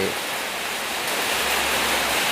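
Steady heavy rain falling in an outdoor setting, a dense continuous hiss with no breaks, fairly loud and close, no voices on top.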